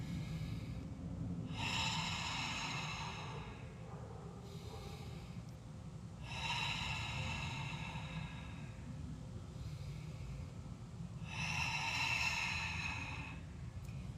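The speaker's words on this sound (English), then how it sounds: "You're going to breathe in, retain at the top," Slow breathing during a yoga recovery breathing exercise, three distinct airy exhales or sighs spaced several seconds apart, close and quiet over a faint background hum, with no speech.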